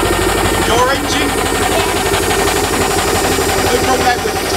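A tractor engine runs steadily at an outdoor tractor show, a continuous loud mechanical drone with rapid pulsing, mixed with crowd noise and people talking nearby.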